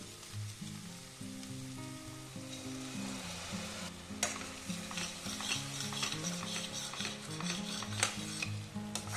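Sour curd whisked with water hits a pan of frying onion and garlic for a paneer dish, setting off a loud close sizzle that crackles on steadily under a low humming tone.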